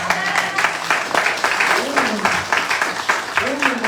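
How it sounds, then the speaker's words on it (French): An audience claps and cheers loudly in rhythmic bursts while a voice speaks over the applause. "Applaudis mon Dieu."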